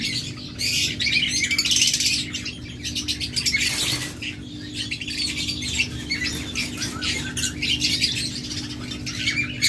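A breeding pair of lutino lovebirds squawks and chirps loudly and close by, in busy repeated bursts with a brief flutter of wings.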